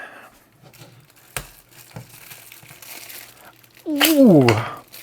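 Crinkling plastic wrap pulled off a Chinese-made survival knife, soft rustles and a couple of taps before a loud burst of crumpling near the end.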